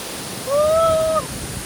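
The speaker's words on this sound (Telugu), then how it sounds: "వారే వా ఫ్రూట్ వాటర్ ఫాల్ పైనుంచి కిందకి దిగుతుంటే ఎంత చక్కగా ఉందో" Prut waterfall in Meghalaya, a steady broadband roar of falling water, close and constant, with a brief high whistle-like tone over it in the middle.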